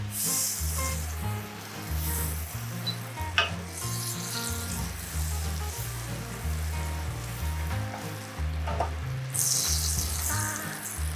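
Minced garlic fries in four tablespoons of butter, a steady close sizzle and hiss with occasional pops and light stirring scrapes, and nobody speaks.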